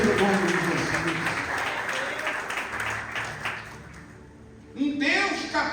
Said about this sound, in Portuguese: Vamos aplaudir esse Jesus nessa noite.